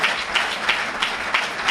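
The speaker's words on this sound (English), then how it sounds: "Let's give Sister Faja Muhammad a well-deserved round of applause." Mosque congregation clapping for Sister Faja Muhammad, a brief, fairly quiet burst of many hands with a steady dense texture.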